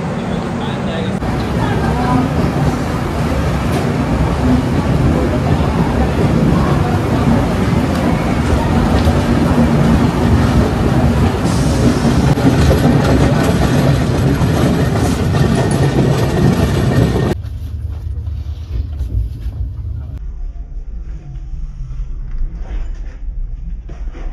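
The 12860 Mumbai Gitanjali Express pulls out of Kalyan station, heard from inside a 3E AC economy coach as a loud continuous rolling rumble with rail clatter that drops to a softer hum near the end, with voices at times.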